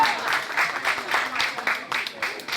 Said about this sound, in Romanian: Haideți să-i primim călduros! Cu aplauze,